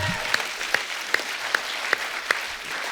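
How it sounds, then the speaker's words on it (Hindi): A studio audience at a comedy talk show applauds steadily, with sharp, evenly spaced claps about every 0.4 seconds standing out above the dense background clapping. "इनके लिए जोरदार तालियां।"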